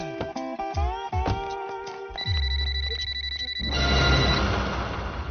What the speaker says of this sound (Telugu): నీకు ఫోన్ ఏంట్రా?